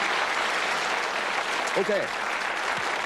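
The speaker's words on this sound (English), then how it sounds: "That's worth a round of applause." Studio audience on a British darts game show breaks into a round of applause, steady and fairly loud, while a host speaks briefly over it.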